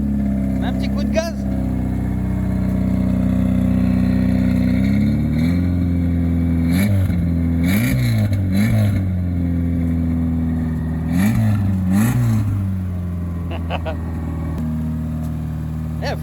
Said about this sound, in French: Un petit coup de gaz.